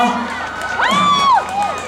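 A crowd at a Ghost Festival temple celebration at Zhongli Renhai Temple greeting a singer, with a prominent rising and falling whooping cheer over a bed of crowd noise, lively and fairly close.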